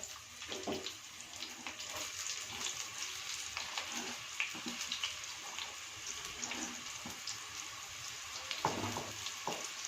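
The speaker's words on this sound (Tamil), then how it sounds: "வெங்காயம் போட்டு நல்லா வதக்கணும்" Steady crackling sizzle of onions frying in oil, with scattered pops and small clatters over a continuous hiss.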